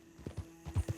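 Horse hooves in Red Dead Redemption 2, a short run of soft clip-clop steps in quick irregular succession, close and fairly quiet, no talking.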